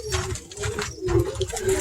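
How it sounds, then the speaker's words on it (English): Birmingham Roller pigeons coo in a loft, soft repeated throaty calls running steadily through the short stretch alongside other low bird murmurs. "I got birds over here."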